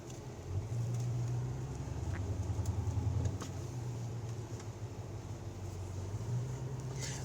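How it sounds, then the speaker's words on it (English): A steady, low engine and exhaust drone from a 1996 Chevrolet Impala SS cruising at highway speed, with road rumble underneath and no talking. "I want you guys to hear the exhaust"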